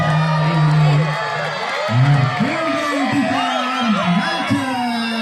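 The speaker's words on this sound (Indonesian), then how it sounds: "Sorak-sorak penonton dari seluruh dusun Bogor menggetarkan lapangan Persigo." A crowd of spectators from across the village cheers and whoops at a volleyball match, loud and continuous with rising, wavering shouts throughout.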